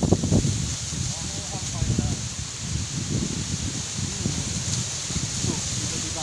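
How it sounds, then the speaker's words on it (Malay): Sudden strong wind during a rainy prawn-fishing outing, rustling and buffeting in uneven gusts close to the microphone while people talk over it. "tiba-tiba angin kuat"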